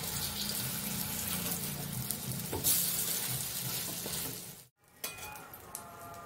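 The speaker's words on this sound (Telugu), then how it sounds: "ఇలా ఒకవైపు వేగిన తర్వాత రెండో వైపు టర్న్ చేసుకుని ఇటువైపు వేయించుకుందాం." Paneer kachori shallow frying in a pan, a steady close sizzle and bubbling crackle running continuously, briefly cut to near silence before resuming more softly.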